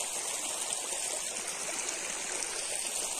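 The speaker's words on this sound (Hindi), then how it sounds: "पानी की आवाज देख सकते हो, पानी जा रहा है" Water flows steadily in a small stream in an Aravali hill village in Rajasthan, making a continuous close rushing and trickling hiss with no voices over it.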